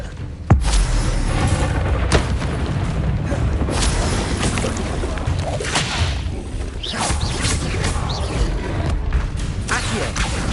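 Descendo spell effects in Hogwarts Legacy, heavy booming thuds and whooshing swishes repeating amid a constant dense wash of spell combat noise, with voices calling out over it.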